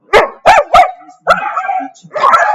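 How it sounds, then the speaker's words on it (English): A dog barks loudly and close by, three sharp barks in quick succession followed by longer whining, yelping barks. "But I said no barking."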